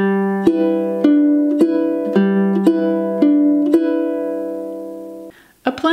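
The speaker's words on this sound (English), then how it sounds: "Bringing this pattern up to the tempo of this song sounds like this." A song is fingerpicked on ukulele at song tempo, with clear plucked notes falling in an even, repeating pattern that rings close and solo before it stops near the end.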